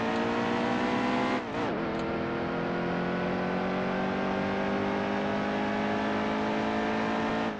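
A race car engine in NASCAR Heat 2 holds a loud, sustained roar with a strong harmonic whine, dipping briefly in a quick gear-shift stutter before settling back into a steady high drone.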